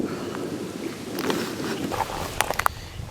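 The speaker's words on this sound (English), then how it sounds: "It's windy up here." Steady wind rushing and buffeting outdoors, with a few brief sharp knocks near the end.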